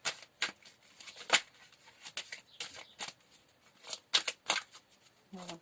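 Tarot cards are shuffled by hand in repeated quick riffles and soft slaps, a brisk papery rustle in irregular bursts at close range with no talking.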